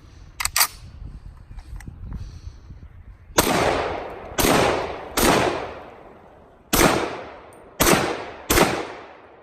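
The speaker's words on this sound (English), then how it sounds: "I'm just going to take a few shots just because this is such a neat rifle" A Springfield Armory M1A Loaded rifle fires six sharp, loud single shots at an outdoor range, spaced about a second apart, each followed by a short echoing decay, with a few fainter clicks and handling sounds before the first shot.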